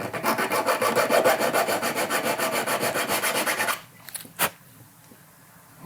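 A metal file rasps back and forth across a piece of jewellery to remove excess solder. The strokes are quick, even and loud for nearly four seconds, then stop, leaving a couple of faint knocks and handling sounds.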